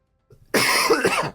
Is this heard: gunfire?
no